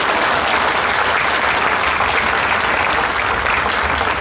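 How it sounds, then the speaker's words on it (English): Audience at a high school graduation ceremony clapping, a full, even wash of applause from a large crowd filling the whole moment. "You can clap, that's okay."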